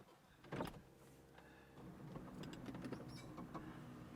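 A Mercedes R230 convertible's power top and windows run with a low, steady electric motor whir and light mechanical clicks and rattles, close and quiet after an initial thump.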